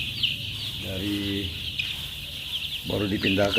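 Young chickens about twelve days old in a farm coop cluck and peep in short bursts over a constant high hum, fairly close, with someone talking now and then.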